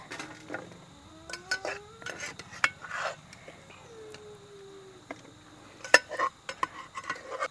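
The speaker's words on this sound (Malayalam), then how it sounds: "നമ്മളിനി പാത്രത്തിലേക്ക് കോരിയിടാം" Cooked jackfruit seeds scooped from a pot into a vessel with a metal spoon, giving scattered clinks and scrapes of metal on metal with quiet gaps between them.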